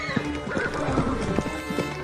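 A horse pulling a carriage neighs and whinnies loudly up close, out of the driver's control, with hoof clip-clops mixed in and a busy, noisy background throughout.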